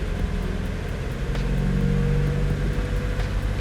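Mazda NB Miata engine idling after a six-speed transmission rebuild, a close, steady, continuous hum with a brief rise in pitch partway through, with no talking.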